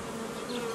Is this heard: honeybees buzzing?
yes